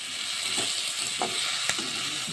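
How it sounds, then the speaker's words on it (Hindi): Chillies frying in a hot pan for chili chicken give a steady, close, dense sizzle, broken by a few brief stirring scrapes, with no voices. "और चिली को फ्राई कर लेते हैं दो मिनट तक"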